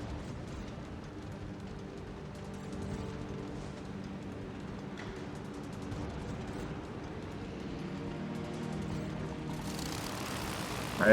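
Aircraft lift off an aircraft carrier in World of Warships: a steady propeller-plane engine drone runs throughout, building slightly, with a burst of noisy roar at the very end.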